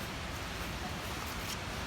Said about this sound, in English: That's the sound of the waterfalls.